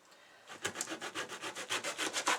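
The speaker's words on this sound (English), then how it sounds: "I am buttering both sides of the bread" Butter being spread over both sides of thick-cut slices of French bread in a pan, a steady run of about a dozen close, scratchy strokes in an even rhythm, with no talking.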